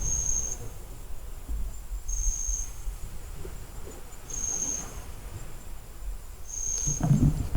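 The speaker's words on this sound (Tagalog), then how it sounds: "huni ng mga kuliglig" Crickets chirp in steady, repeating bursts against a quiet night background, with a faint rustle near the end.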